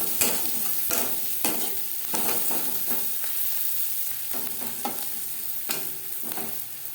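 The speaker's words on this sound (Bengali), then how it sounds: "পেঁয়াজ লালচে করে ভাজা হয়ে গেছে" Onions frying to a reddish brown in a pan with a pinch of turmeric, a steady sizzle broken by repeated scraping stirs of a spatula, close and fairly loud throughout with no talking.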